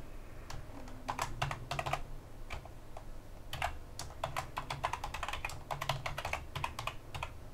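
Keys clack on a computer keyboard as a password is typed, a quick irregular run of close, crisp taps with brief pauses over a faint background hum.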